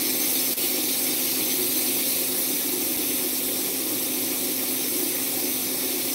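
A pressure cooker cooking sweet ham lets out a steady, continuous hiss of steam with a faint tonal whistle, even and unbroken throughout, moderately quiet and nearby.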